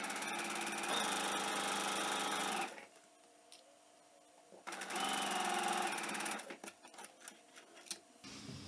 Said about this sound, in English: I'm going to stretch this slightly, wrap it around, and sew it in place.